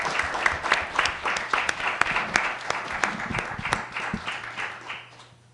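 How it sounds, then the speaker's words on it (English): Applause at a city council meeting: a modest group claps steadily and fairly close for around five seconds, the sound thinning out and fading near the end. "Let's clap, y'all."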